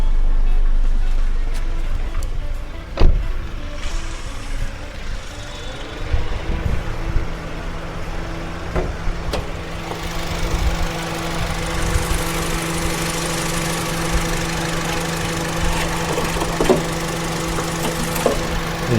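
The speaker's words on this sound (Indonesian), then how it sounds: "Ini kondisi mesin dinyalakan." Engine of a 2013 Honda Brio with automatic transmission idling steadily after being started, with the bonnet open; a smooth continuous hum with a low drone, heard up close with no voices.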